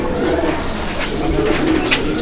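Pigeons kept for sale at a bird market coo in a dense, continuous chorus close by, with a brief brighter call near the end and no speech over it.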